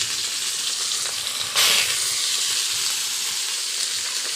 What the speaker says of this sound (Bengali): দেখো মাছটা ভাজা হচ্ছে, খুব ভাজা।